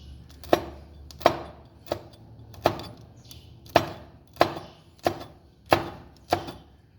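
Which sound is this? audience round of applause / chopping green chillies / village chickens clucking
chopping green chillies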